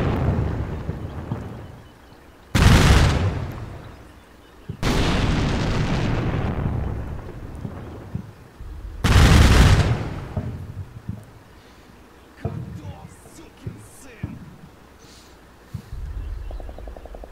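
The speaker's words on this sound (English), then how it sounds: "so I heard explosions, so I think it worked" Three loud, heavy explosions boom one after another with rumbling decays, followed by a scatter of smaller pops and thuds.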